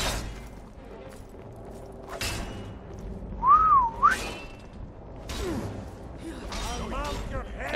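A character in a video game gives a short rising-and-falling whistle, loud and clear over game ambience, thumps and scattered clatter.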